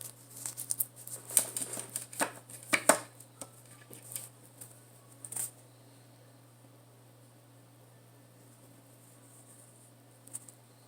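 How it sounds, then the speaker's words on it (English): Tarot cards being shuffled by hand at close range: bursts of quick riffling and soft slaps for about five seconds, then near-silence with one faint flick at the end. "I hope that shuffling is not bothering you, but it helps me to tune in the energies."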